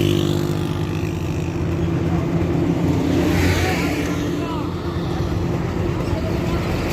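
A dumper truck rolls past on a narrow road construction site, its heavy diesel engine rumbling steadily close by with a broad low drone, and a voice talks over it.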